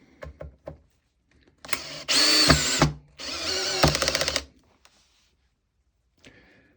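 A Makita 12V drill driver drives a screw into wood in two loud whirring bursts of about a second each, with a short gap, after a few light clicks of handling.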